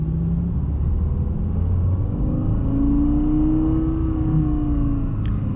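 A Lexus LFA's 4.8-litre V10 drones deep and steady at low revs and about one-tenth throttle, with a gentle rise in pitch midway, continuous and fairly loud throughout.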